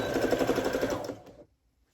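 Sewing machine stitching plaid fabric for men's pants, a rapid rhythmic whirring run at close range that stops abruptly near the end, leaving silence.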